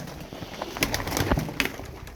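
Tumbler pigeons coo nearby in soft, repeated throaty calls. The calls come in short bursts, with faint rustling between them.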